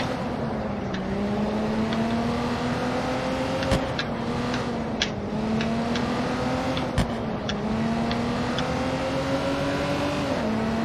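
Car engine in Watch Dogs 2, droning steady and close at night with slowly climbing pitch, dotted with sharp ticks and clacks over a constant hum.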